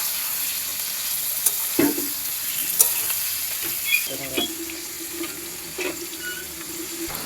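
Chicken sizzles as it fries in a pan, with a steady hiss underneath and scattered scraping clinks of stirring at close range, and no one talking.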